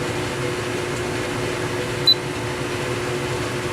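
A Dimplex Thermal 20 ton chiller runs with a steady mechanical hum and airy fan noise, close and constant, with a brief faint beep partway through.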